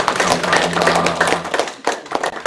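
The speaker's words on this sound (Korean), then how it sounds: "박수를 해주시기 바랍니다." An audience claps together at a pastor's church lecture, a dense, steady patter of many hands sustained for a couple of seconds, thinning briefly before a final burst.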